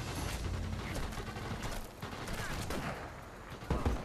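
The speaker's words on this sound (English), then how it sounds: "Now they're shooting me." Enemy gunfire in the VR shooter Sniper Elite VR, a dense distant crackle of rifle and machine-gun shots layered with battle noise, steady and moderately loud with a heavier thump near the end.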